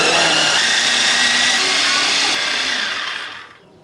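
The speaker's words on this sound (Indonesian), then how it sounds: "Untuk bumbu lombok ijonya di sini aku nggak mau pakai ulekan, tapi aku mau pakai chopper." Electric chopper grinding green chilies, bird's eye chilies and shallots: a loud, steady motor whir with blades churning, which winds down and cuts out near the end.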